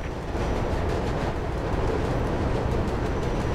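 A train rushing past in the video game Mirror's Edge, a dense continuous rumbling roar held at steady loudness for the whole stretch, with no voices.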